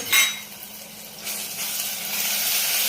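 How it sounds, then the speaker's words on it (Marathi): A spoonful of ginger, garlic, coriander and green chilli paste drops into hot oil in a pan, giving a sharp initial crackle that settles into a steady, close sizzle which swells toward the end. "तेल गरम झालेलं आहे आपलं आता बघा त्याच्यामध्ये मी एक चमचा आलं लसूण आणि कोथिंबीर हिरवी मिरची याचं वाटण टाकून घेते"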